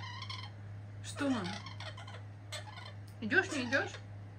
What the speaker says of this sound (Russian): Ну ты моя разговорчивая птица.